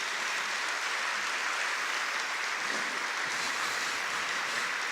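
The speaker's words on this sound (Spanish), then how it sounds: "Dale un fuerte aplauso al Señor, hombre." Continuous broadband wash of applause from a church congregation during a sermon, steady and moderately distant, with no distinct individual claps and no talking.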